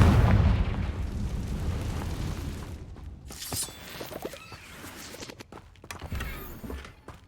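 Confringo fire spell exploding in the video game Hogwarts Legacy: a loud, booming burst at the start fades into rumble, followed by a second crackling blast and scattered pops and debris.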